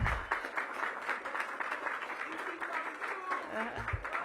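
An audience at a mayoral announcement gives a round of applause for a sergeant, a dense, steady patter of many hands, with a voice breaking through briefly near the end.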